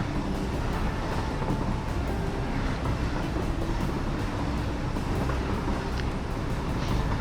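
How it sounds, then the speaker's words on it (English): A freight train in the video game Satisfactory rumbles steadily into a station with a dense rolling, clattering roar, close and even throughout, with faint metallic clicks. "it comes to a stop at the train station near the base"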